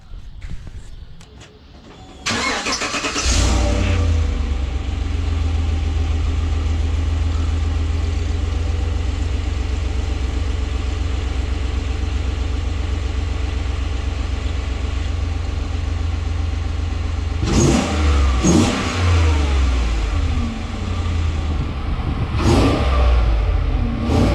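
A 2014-2018 Chevrolet Silverado or GMC Sierra Z71 pickup with Kooks long tube headers idles with a deep steady rumble, then revs sharply a few times near the end, fairly loud and close.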